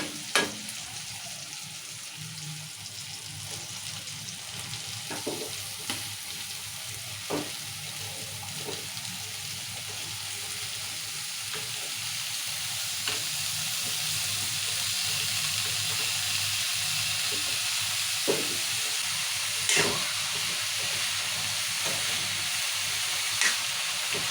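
Bottle gourd pieces frying in oil with tomatoes give a steady soft sizzle and hiss, broken by occasional clicks of stirring.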